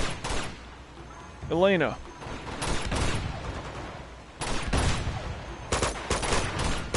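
Bursts of gunfire ring out in the Uncharted 2: Among Thieves video game, coming in several loud volleys while someone talks over the shooting.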